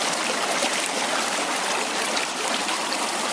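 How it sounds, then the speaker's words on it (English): Water rushes steadily in a continuous broadband hiss, a nearby creek on the Appalachian Trail flowing without pause and with no voices over it. "you see this wonderful creek coming down between us"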